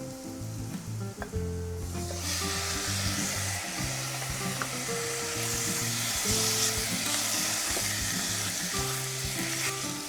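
Chicken pieces frying with onions in a home apartment pan, a strong close sizzle that surges after being added, with spatula scrapes and stirring under the crackle.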